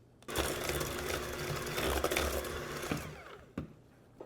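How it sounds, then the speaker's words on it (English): A handheld electric mixer creams butter and sugar in a bowl for a coffee toffee bar, giving a steady whirring motor drone for about three seconds before it cuts off, followed by a light clink. "I'm just using my hand mixer today."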